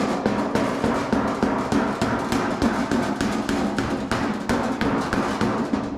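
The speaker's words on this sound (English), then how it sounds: "I just use my hammer just to help this crease go a bit deeper." A hammer strikes an aluminum body panel for a Jaguar D-Type build, deepening a crease with a fast, steady run of close, loud metallic blows and no talk.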